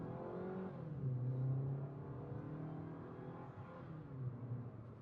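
A Suzuki Fronx GLX with a 1.5-litre mild hybrid engine pulls away from a standstill on an empty road, its engine note rising steadily through the gears, heard from inside the cabin at moderate volume with no talking.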